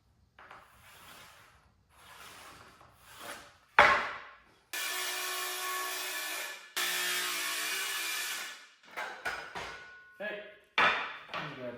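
Wooden board being sawn to length for a bow tuner frame, several long rasping saw strokes between shorter scraping and knocking sounds, close up.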